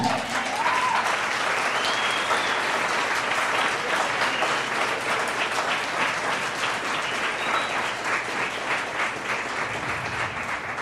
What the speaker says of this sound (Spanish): Si lo crees, dale un aplauso.